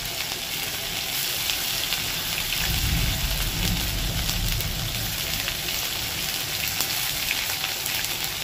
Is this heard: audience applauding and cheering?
no